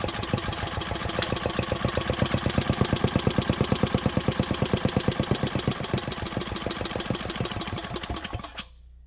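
A 1967 Briggs and Stratton engine runs at half choke with a steady, rapid firing beat that stays loud and close before cutting off abruptly near the end.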